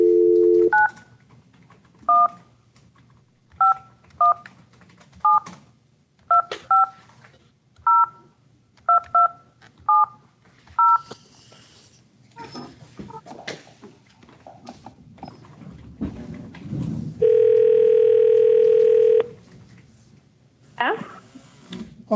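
A telephone is dialed for a call to a truancy officer, with about a dozen short evenly spaced keypad tones, followed later by a steady dial tone lasting a couple of seconds.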